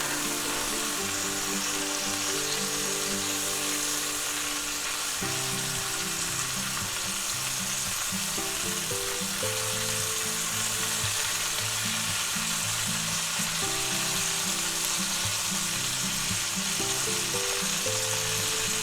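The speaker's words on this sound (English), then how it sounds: "Now we're going to go ahead and baste it with a little butter" A chuck roast seared like a steak, sizzling loudly and steadily in a pan as it is basted with butter, with a constant close frying hiss and a low humming tone underneath.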